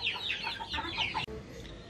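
Chickens and chicks in a coop cluck and peep in quick, close calls while pecking at scattered purslane, ending with a sharp click.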